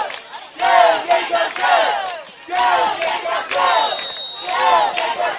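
Home crowd cheering at a high school football game between Providence and New Brockton, loud surging yells and shouts in waves, with a brief whistle-like tone near the end.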